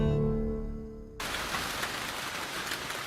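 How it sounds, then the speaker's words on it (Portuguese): Heavy tropical rain in New Guinea pours down in a dense, even hiss of drops, starting abruptly after a low humming tone and then staying loud and steady. "Quando a chuva chega na Nova Guiné, nada nem ninguém escapa do dilúvio."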